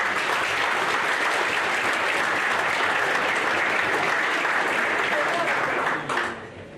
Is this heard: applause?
yes